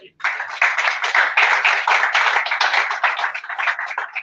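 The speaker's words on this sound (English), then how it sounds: "So maybe a round of applause for them." An audience at an innovation week event in Pwani claps in a steady round of applause, close and fairly loud, holding for about four seconds before tapering slightly.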